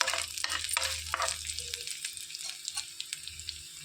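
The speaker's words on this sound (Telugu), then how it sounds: "కరివేపాకు చిటపట్లాడేలా ఉంచుకొని" Curry leaves crackle and sizzle in hot ghee during a tempering for onion chutney, with close, sharp pops and a bright frying hiss that thin into scattered crackles as a spoon stirs.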